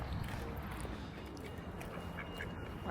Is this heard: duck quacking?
yes